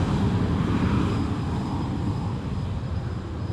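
Heavy jet aircraft arriving at Sydney Airport at night produce a loud, continuous low rumbling roar that holds steady throughout, with no talk over it.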